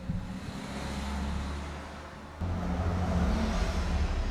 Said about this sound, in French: Ah, ça, c'est un bus qui passe